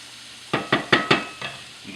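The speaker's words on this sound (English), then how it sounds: "Just give them a quick saute." Food is being quickly sautéed in a pan before a sauce is built, with four sharp, close stirring or tossing bursts of sizzle in quick succession, then a fainter one, over quiet background hiss.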